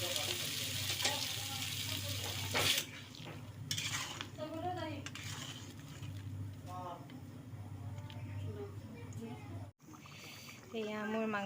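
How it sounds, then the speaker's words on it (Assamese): Water poured into a pan of sizzling fried chicken and potatoes, the frying hiss surging then settling under scraping and stirring, with someone talking over it. "এতিয়া মই ইয়াত পানী দিম।"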